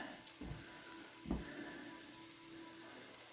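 Bacon fries quietly in a pan over heat that was too high, a faint steady sizzle with a couple of soft knocks, low and distant-sounding.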